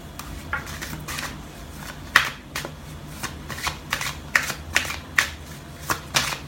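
Starseed oracle cards being shuffled and drawn: a rapid series of crisp riffling and flicking bursts, close and fairly loud, with no talking.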